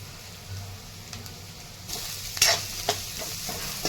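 Curry leaves fry in hot oil with a steady sizzle, growing louder partway through as stirring adds sharp scraping strokes and spattering crackles, close to the pan.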